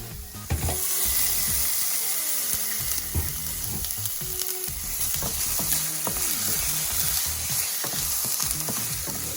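Peppers and onion fry in olive oil in a pan, giving a loud continuous sizzle up close with scattered clatter of a utensil shifting the pieces, and no talking.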